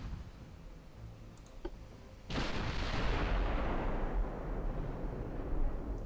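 15-inch naval guns fire in the warship game Ultimate Admiral Dreadnoughts, one sudden heavy boom that swells into a long, loud, rumbling roar.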